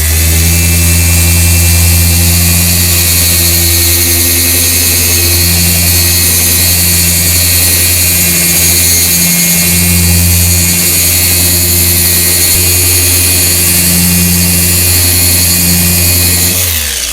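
A car polishing machine drones steadily and loudly on a Dodge, its motor hum holding an even pitch with slight wavering, no voices over it.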